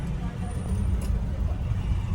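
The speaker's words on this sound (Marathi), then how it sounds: "खूप ट्रॉफिक पण झालेलं आहे खूप गाड्या आलेल्या आहेत" Steady low roar of heavy road traffic with many cars, buses and trucks on a jammed village road, a continuous dense rumble throughout with a brief hiss near the middle.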